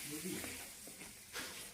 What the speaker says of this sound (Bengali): আর এই যে 3 নাম্বার পুরি ভাজা হচ্ছে